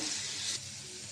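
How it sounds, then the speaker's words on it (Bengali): Ground onion, garlic and ginger paste sizzling in oil in a kadai for shing fish curry, a bright close hiss that drops off sharply halfway through, then a softer lingering fry. "মশলাটা কষাবো"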